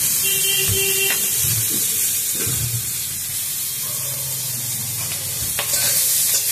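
Spices frying in a pan for a cabbage dish cooked with fish oil and radhuni paste, a loud steady sizzle broken by stirring scrapes and clinks, with no talk.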